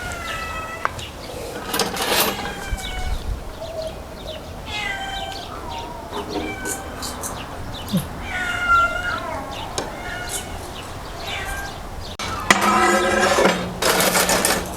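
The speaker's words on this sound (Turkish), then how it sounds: "Kediler de etrafımızda coştu maşallah." Several cats meow in bursts, some close and some farther off, with a brief clatter near the end; a voice speaks faintly at times.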